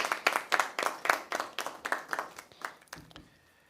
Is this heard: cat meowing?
no